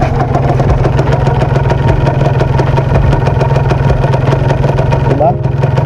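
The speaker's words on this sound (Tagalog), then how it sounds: "maingay na makina ni Kaldag." A motorcycle engine idles loudly and close by, a steady rumbling throb that continues throughout with a brief shift near the end.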